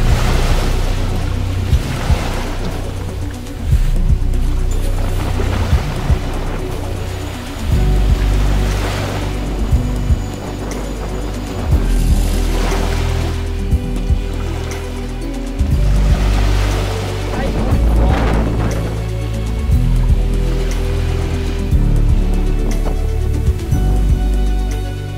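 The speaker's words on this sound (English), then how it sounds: "This is champagne sailing." Wind and water rush steadily past a custom-built catamaran sailing at speed, with waves slapping the hull in repeated surges and a low rumble underneath.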